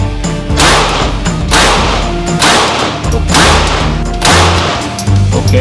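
Real gunshots fired at a black card on a shooting range crack out in four loud, sharp reports about a second apart, each followed by a brief ringing echo.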